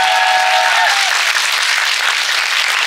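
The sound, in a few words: audience applause for the pianist at a film festival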